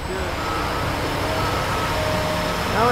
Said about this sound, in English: Now we got Delbert on the loader.